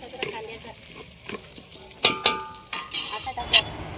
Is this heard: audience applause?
no